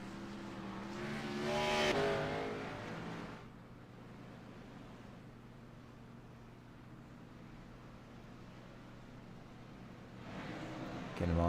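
Xfinity stock cars circle at Michigan International Speedway behind the pace car, a loud engine roar swelling and passing early, then a steady distant drone, with another engine rising again at the end.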